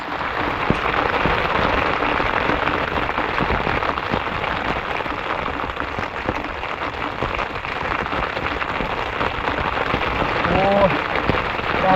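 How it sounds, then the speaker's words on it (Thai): Steady rain patters down on a surface during a fishing outing, a dense continuous hiss with scattered drop impacts; a voice may briefly sound in the background near the end. "กลางสายฝนเลยครับ"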